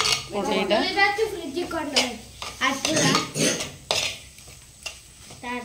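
Masala powder is stirred in a frying pan for a chicken curry, with irregular scraping and clinking strokes of the spoon against the pan, close and fairly loud, over a soft sizzle and a brief voice.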